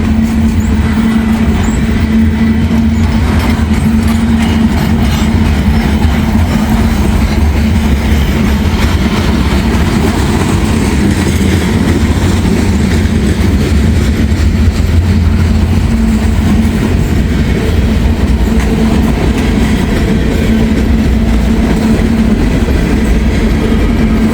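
A freight train of empty scrap metal cars rolls past at close range, a long continuous rumble with rattling and clanking wheels and a faint steady tone riding over it.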